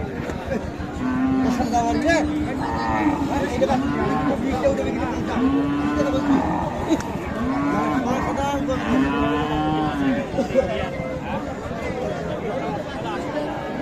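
Repeated deep moos from a Gir cow rise over a busy cattle market crowd, with steady chatter and voices filling the background throughout.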